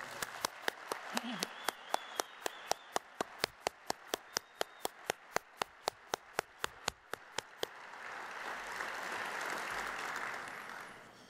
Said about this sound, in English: the Siegel family deserve a big round of applause from us